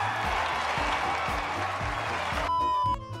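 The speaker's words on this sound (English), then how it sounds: "Their thunderous applause was real." Live audience at a bowling alley applauding and cheering strikes, a dense sustained wash of clapping under a steady musical beat, cut off abruptly near the end.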